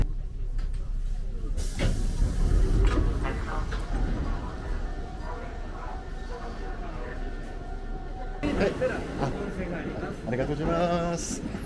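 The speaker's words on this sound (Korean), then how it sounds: "자, 그럼 이제 전철을 타고 부쇼잔역으로 이동해 보겠습니다." Subway train ride toward Busshozan station in Japan: a continuous rumble and hiss of the moving carriage with a sharp shift partway through, and voices and station chimes in the background.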